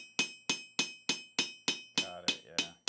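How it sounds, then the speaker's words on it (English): A big forging hammer strikes a metal sheet being textured for a bracelet, about ten sharp ringing blows in a steady rhythm, close and loud with no talk. "Big forging hammer."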